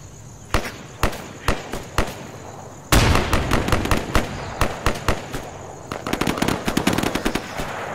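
Gunfire in the Insurgency video game: several single evenly spaced shots, then a sustained automatic burst of rapid cracks that continues irregularly to the end, fairly close and loud.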